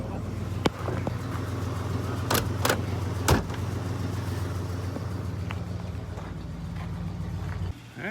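A car door opens and shuts on an icy day with a vehicle idling nearby. A few sharp knocks and latch clicks sit over a steady low engine hum, with faint voices in the background.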